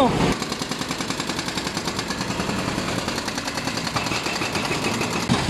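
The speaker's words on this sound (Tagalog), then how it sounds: "mamimiss ko yung tunog ng sira ng kalsada pag nawala yan" Loud, rapid mechanical pounding of road repair machinery in Bulacan, like a jackhammer breaking pavement, hammering steadily throughout at close range.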